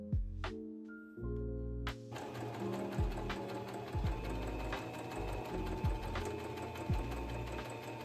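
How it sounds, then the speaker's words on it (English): A sewing machine stitches the shoulder seams of a vest bodice, a close, steady mechanical whir with rapid needle rhythm, starting after a couple of brief stops and then running continuously with slight changes in speed. "Sew them down with 1 centimeter seam allowance."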